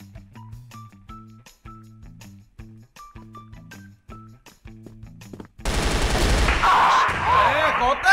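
Rapid burst of automatic gunfire from a weapon in the shooter game Crossfire (Đột Kích), loud and continuous after a stretch of quiet in-game music tones.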